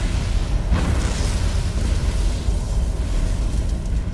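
Explosions in the video game Resident Evil 3 boom in a dense, loud wall of rumbling blast noise, with a sharper burst near the start, sustained throughout with no talk.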